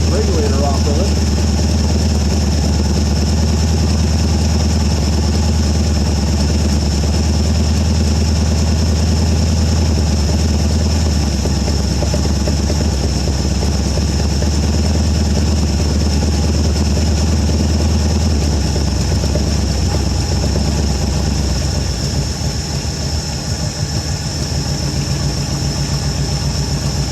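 A 1973 Ford Gran Torino Sport with a 351 Cleveland V8, off the road for 30 years, idles loud and close with a steady deep rumble that slightly settles and shifts near the end.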